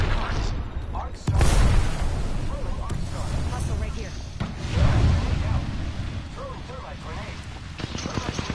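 A grenade goes off in a battle-royale-style video game, a deep low boom with a rumbling tail, followed a few seconds later by a second heavy blast, with players talking over the action.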